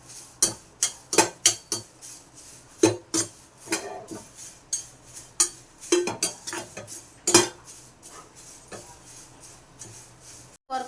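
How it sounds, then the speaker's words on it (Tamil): Drumstick spinach leaves dry-roast in a pan, heard as a rapid series of metal spoon scrapes and knocks against the pan, close and rhythmic with brief pauses and no sizzle. "இந்த கீரையை வந்து வாசம் வர்ற வரைக்கும் வறுக்கணுங்க."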